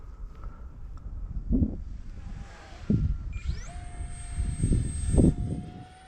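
A small RC jet model makes a low pass, its rising turbine whine and rushing air building and fading over several seconds, with wind buffeting the microphone.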